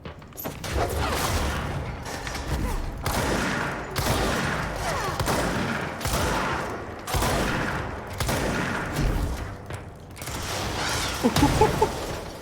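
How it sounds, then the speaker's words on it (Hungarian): Repeated bursts of blasts and crashing debris from explosions in the video game Control, arriving in loud clustered waves roughly every couple of seconds with mechanical clatter between them. "valószínűleg az arcomban robbant egy cucc"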